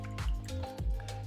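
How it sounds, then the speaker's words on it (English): A watercolor paintbrush swished and rinsed in a container of water, with two soft, low sloshing pulses and faint drips, close and quiet. "Wash my brush."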